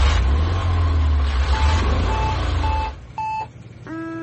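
Cartoon time machine's Enigma Drive engaging for a time hop: a loud rumbling drone with whining tones, then a run of electronic beeps and rising synth tones as it powers up alone.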